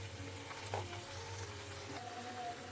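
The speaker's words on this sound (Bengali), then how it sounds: "তখন এর মধ্যে ভেজে রাখা আলু পেঁয়াজগুলো দিয়ে কষাতে থাকবো" Pre-fried potatoes and onions sauté in a hot pan, a soft steady sizzle with faint scraping of a spoon as they are stirred, quiet and close.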